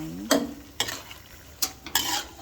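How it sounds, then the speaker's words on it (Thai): Squid stir-fried with red curry paste crackles softly in a pan, broken by four sharp, close scrapes of a spatula tossing the mix. "ทำผัดพริกแกงปลาหมึกนะคะ"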